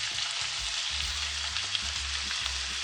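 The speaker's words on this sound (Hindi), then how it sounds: "2 से 3 मिनट के लिए मैं वेजिटेबल को सोते करूँगी।" Chopped onion and tomato sautéing in a hot pan, a steady close sizzle and crackle of frying vegetables with faint stirring, no voices.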